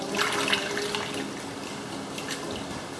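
Paper pulp is poured by hand into a vat of water for Nepalese-style papermaking, a close, steady splashing rush that gradually eases off.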